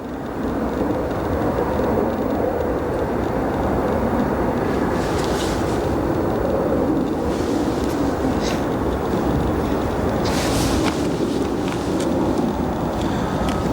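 A Boeing 747 taxis toward its departure runway at O'Hare International Airport with a loud, continuous jet rumble and roar that swells slightly at moments, heard at fairly close range.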